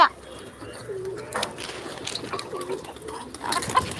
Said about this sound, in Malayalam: അതിൻ്റെ ഇടയിൽ ഇതാ രണ്ട് പ്രാവ്